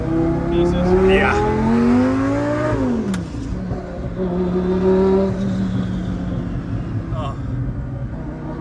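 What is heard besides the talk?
Lamborghini 5-liter V10 engine revving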